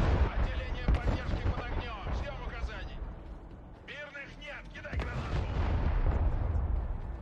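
Mortar fire in the video game Broken Arrow: repeated heavy booms and crackling impacts in a dense battle soundscape, with a voice talking over the barrage.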